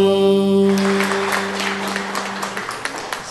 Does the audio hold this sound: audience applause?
yes